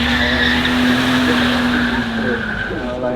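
A rear-wheel-drive supercar slides through a corner at the Goodwood Festival of Speed, its tires letting out a long, loud, steady squeal over the engine note that tails off slightly near the end.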